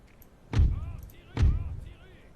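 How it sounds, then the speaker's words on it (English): Two heavy cannon booms from a Napoleonic-era battle in the strategy game Napoleon Total War, about a second apart, each with a deep thud and decaying rumble, fairly loud with faint battle ambience between. "We are hitting them with cannon."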